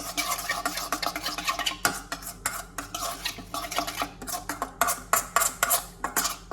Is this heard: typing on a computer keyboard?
no